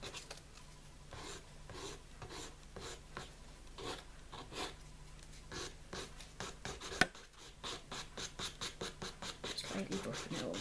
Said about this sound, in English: just gently take the surface shine off the nail